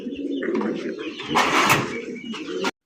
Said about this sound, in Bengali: দেখেন একদম গোলাপ ঝুটির বোম্বাই কবুতর